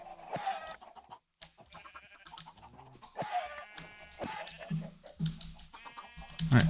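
Chickens in the video game Minecraft cluck in a string of short calls spread across the clip, fairly close and with no talk over them.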